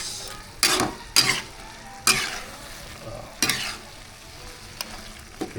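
Fried galunggong fish being stirred in tomato sauce in a pan, with several distinct scraping stirs over a steady sizzle, close and alone.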